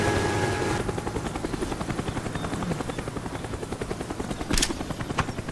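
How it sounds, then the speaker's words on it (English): A Call of Duty: Black Ops spy plane drones overhead on the Stadium map, a steady, rhythmic propeller buzz that stays loud throughout, with brief sharper game effects near the end. "Our spy plane's in the air."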